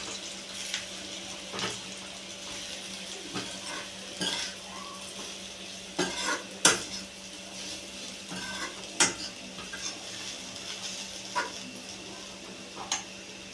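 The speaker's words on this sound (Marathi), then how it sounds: "ही चपाती आहे आपण याच्यात टाकणार गॅस कमीच ठेवायचा आहे" Leftover chapati pieces tossed and stirred in a pan over low heat, soft frying hiss beneath intermittent clinks and scrapes of a spoon against the metal.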